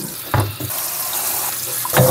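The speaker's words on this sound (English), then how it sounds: "Cover it with water." Tap water runs steadily into a sink to cover food for a Korean summer soup, a continuous close splashing stream with short louder gushes at the start and end.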